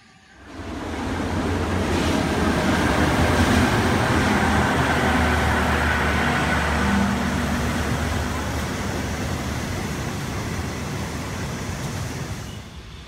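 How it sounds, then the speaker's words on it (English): Ekspres Rakyat passenger train running in Malaysia, heard as a steady broadband rumble and rushing roar with a low hum underneath, continuous and fairly loud for the whole stretch, with no talking. "Now on the Ekspres Rakyat, train back to KL"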